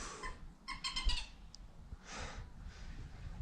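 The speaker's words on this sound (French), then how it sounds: "Il y a beaucoup de bruit les oiseaux." Birds call outdoors in winter during roach fishing, in a few short bursts of chirps, with a brief high note between them, fairly faint against a soft background hiss.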